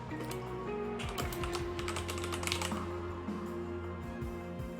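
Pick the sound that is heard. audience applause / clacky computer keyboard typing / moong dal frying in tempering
clacky computer keyboard typing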